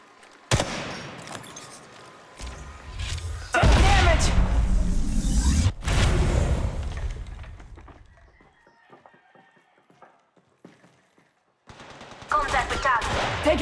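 Apex Legends Mobile firefight: loud, rapid bursts of automatic gunfire crackle in clusters, fade into a quieter lull, then erupt again near the end.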